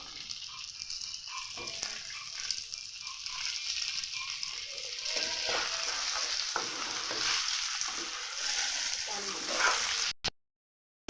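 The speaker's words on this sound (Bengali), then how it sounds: "দিয়ে একটু নাড়াচাড়া করে নেবো কাঁচা লঙ্কা দিয়ে দেবো মটরশুঁটি দিয়ে দেবো" Cauliflower curry with green chilli and peas being stirred in a hot pan, a steady sizzle and scraping that runs close and continuous before stopping abruptly near the end.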